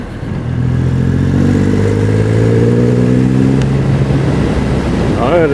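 Motorcycle engine with big low-end torque pulling in fourth gear from about 2000 rpm, a steady rising drone heard from onboard while riding, with wind noise and a rider talking over it throughout.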